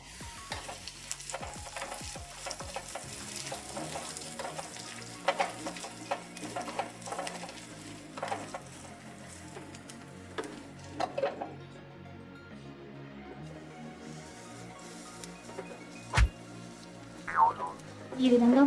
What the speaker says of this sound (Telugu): దీనిని మనం మూత పెట్టి అప్పుడప్పుడు తిప్పుకుంటూ వేయించుకోవాలండి.